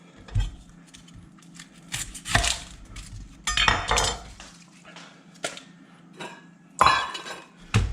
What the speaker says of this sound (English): So what we're going to do is first we're going to cut off the top